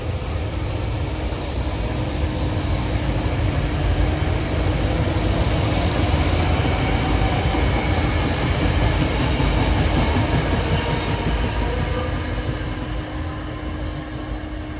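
Commuter train of two married-pair railcars passing at Bryn Mawr near Philadelphia, a loud sustained roar of wheels on rail with a steady tonal hum and rhythmic clatter, fading slightly at the end.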